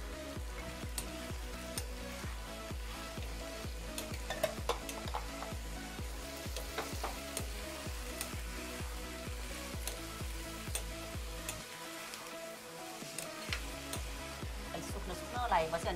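Small chopped tomatoes stir-fried in hot oil in a pan give a steady, close sizzle and crackle, with frequent scraping and clinking from the stirring spoon, while someone talks intermittently over the cooking.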